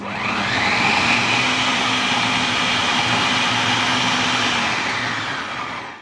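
Bell pepper chunks minced in an electric food chopper, a steady loud motor whir with a low hum running continuously for several seconds before fading at the end.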